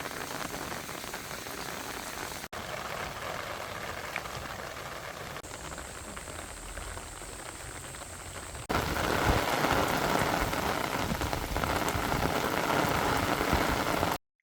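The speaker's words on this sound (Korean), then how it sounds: "2년 전 비 올 때 찍은 천주호 영상을 보여드립니다." Steady, dense rain falls at Cheonju lake in a continuous broadband hiss that grows louder and heavier partway through, with no voices.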